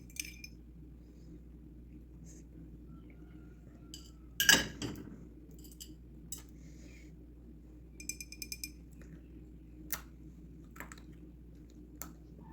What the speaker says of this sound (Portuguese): Tá fazendo barulho de vidro, tá crocante, mas não está crocante o suficiente, ainda gruda no dente.